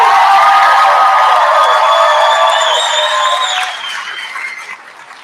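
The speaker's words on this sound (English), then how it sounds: "I need to hear another round of applause for the class of" Loud applause and cheering from a crowd at a 2023 high school graduation ceremony for the graduating class, sustained then tapering off toward the end, with scattered whoops.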